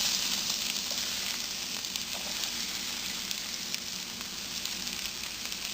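Chopped onion hitting hot oil with green cardamom, cloves and other whole spices, a steady bright close sizzle with faint crackles throughout and no talk.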